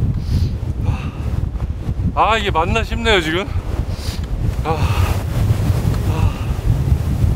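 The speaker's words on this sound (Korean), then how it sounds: "바람 소리 들리세요?" Strong, gusty mountain wind roars and buffets the microphone continuously on snowy Seonjaryeong ridge, with someone speaking briefly in Korean over it.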